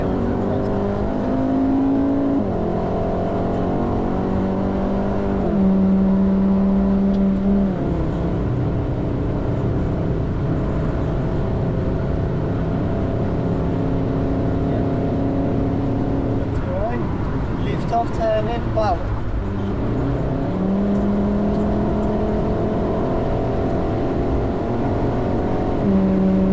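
A car engine on a Nürburgring Nordschleife track day rises and falls through repeated accelerations and gear changes, revving loudly and continuously up close, with a driver talking steadily over it.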